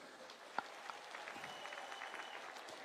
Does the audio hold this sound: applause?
yes